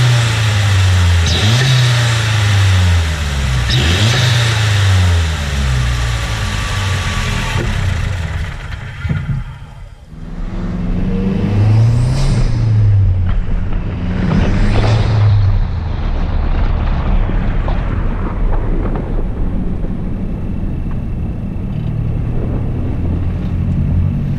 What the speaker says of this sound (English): here are some clips of how the stock bypass valve sounds